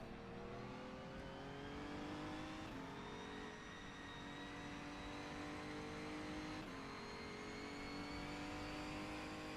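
A Megane Trophy race car in the rFactor2 racing game roars through repeated rising gear-by-gear acceleration, a steady loud engine drone with shifts around every few seconds and no talking.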